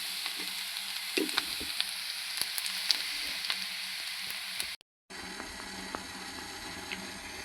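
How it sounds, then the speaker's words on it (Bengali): Potato bhaji sizzles and crackles steadily in a home kitchen pan at close range, with occasional stirring clinks, a brief dropout near the end, then continued frying alone without talk. "আলু ভাজি করছি আর এই যে ডিম বোনা করছি"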